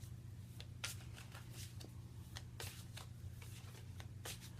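Hands shuffling a tarot deck, a run of quick crisp card riffles and taps in uneven rhythm, close and quiet over a constant low background hum, no voices.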